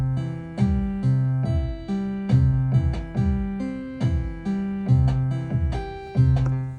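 Chord arpeggio from an Oxi One sequencer with its octave setting engaged, a repeating synth pattern of plucked notes climbing through octaves in a steady rhythm, loud and close with no talking.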